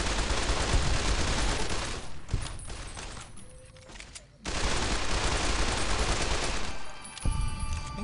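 Grenades and gunfire hammer a robot in Fallout: New Vegas, a dense loud barrage of blasts that drops briefly to a quieter lull before bursting back in, with no voices over it.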